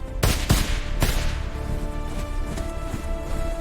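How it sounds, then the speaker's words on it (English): Musket volleys from lines of soldiers firing together: three sharp, loud, near-simultaneous blasts in quick succession, each a ragged cluster of shots, followed by a rumbling, echoing tail and distant scattered reports. "Lines of men firing as one."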